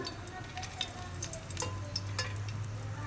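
Cinnamon pieces frying in three spoons of hot peanut oil for chicken biryani, a light steady sizzle with faint crackles and small taps, fairly quiet and close.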